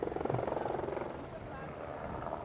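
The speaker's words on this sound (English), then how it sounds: "First, the helicopter chases away the locusts that swarm near the waters." Helicopter flying over water to drive off swarming locusts in Madagascar before pesticide spraying, a steady rotor thump with pulsing beats filling the clip, with a voice speaking over it.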